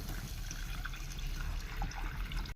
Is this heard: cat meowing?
no